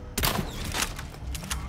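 Gunfire in the Resident Evil 4 video game: several sharp shots in quick succession, loud and close, with faint game effects between them and no talk.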